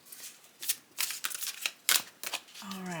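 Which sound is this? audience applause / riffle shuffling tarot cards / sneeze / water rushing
riffle shuffling tarot cards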